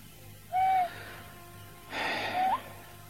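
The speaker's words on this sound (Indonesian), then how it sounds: "Burung hantu itu berbunyi." Two owl calls, breathy and airy, each followed by a rising whistle-like tone, separated by a short pause over a low background hum.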